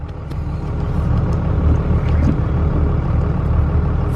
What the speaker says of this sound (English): 0 to 60, edge comp box off, 2001 24 valve Cummins